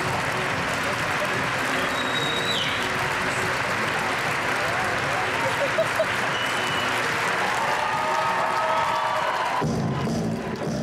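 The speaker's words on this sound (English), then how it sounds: "we just keep the music underneath and bring up the applause" Sustained audience applause after a dance performance fills the room with dense, steady clapping from a crowd, continuous and fairly loud, with a brief dip near the end.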